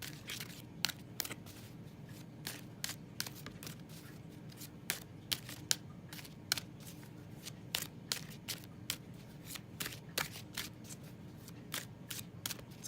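Lenormand and Oracle card decks are shuffled, making soft, close snapping and riffling clicks that repeat in a quick, uneven rhythm at low volume.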